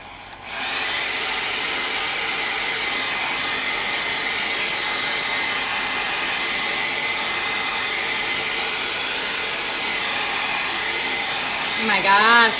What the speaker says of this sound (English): I'm gonna hit that with a blow dryer